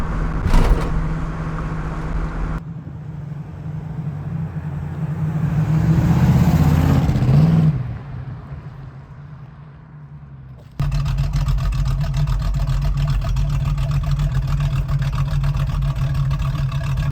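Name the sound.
1969 Pontiac Trans Am Ram Air driving, interior noise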